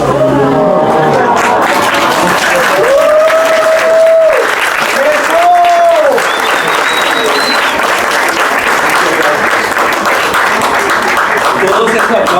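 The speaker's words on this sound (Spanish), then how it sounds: "Todos esos aplausos y todo ese amor para Dieguito" Live audience applause at a storytelling show, loud and sustained for over ten seconds, with cheering voices and whoops rising over the clapping.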